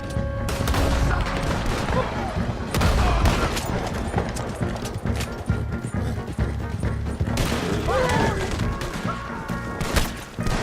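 Dense gunfire in Red Dead Redemption 2, with continuous overlapping rifle and pistol shots, crashes and thuds over several seconds, loud and close, with occasional voices underneath.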